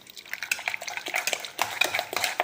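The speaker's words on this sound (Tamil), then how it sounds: "இதை ஒரு கரண்டி போட்டு கடைஞ்சிடலாம்." A ladle stirs and mashes cooked brinjal kotsu with dal in a pot, giving soft wet squelching and scraping strokes with light metallic clinks, close and continuous with no talking.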